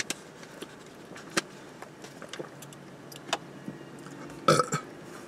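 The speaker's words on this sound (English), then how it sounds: "I have hiccups every time I'm doing reaction video" A person hiccups in short, sharp bursts at irregular intervals, close by and fairly quiet, with a louder cluster of hiccups near the end.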